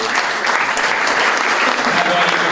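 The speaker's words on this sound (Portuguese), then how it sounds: "Uma salva de palmas para o Gustavo." Applause for a speaker at a product development session in Portugal, a loud, dense burst of clapping from the audience that holds steady throughout.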